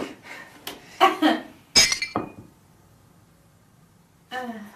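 A drinking glass in a bar picked up with a few sharp clinks and knocks close by, along with brief rustling, then a short spoken phrase at the end.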